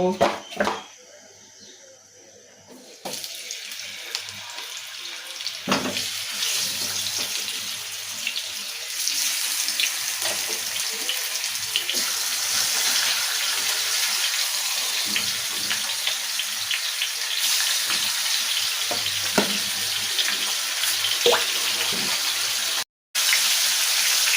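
Turmeric- and chili-coated fish frying in hot oil gives a steady, dense sizzle that runs almost without a break, with a few soft clatters in the background.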